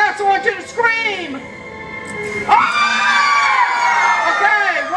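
Children in a school assembly scream and cheer loudly in unison, with a shrill burst of high voices that fades and then swells again into a sustained crowd yell, alongside adult talk.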